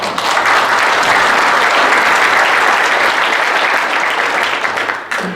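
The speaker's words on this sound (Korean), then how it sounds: "다시 한번 큰 박수 부탁드립니다" A large audience at a forum ceremony applauds loudly and steadily, a dense wash of clapping that holds evenly for about five seconds before cutting off abruptly.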